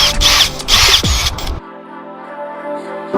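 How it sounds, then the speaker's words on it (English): A power drill whirs in short bursts up close, pre-drilling holes in a van roof for a fan install, revving twice, then winds down into a fading hum before a brief click. "Okay, now I'm pre-drilling the holes."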